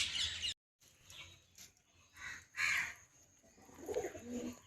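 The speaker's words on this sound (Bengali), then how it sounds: "প্রতিদিনই পায়রাগুলো আসে আমাদের বাড়িতে খেতে" Pigeons cooing at a house where they come to be fed, several soft, low coos in short bursts close by, with faint outdoor background and no talking.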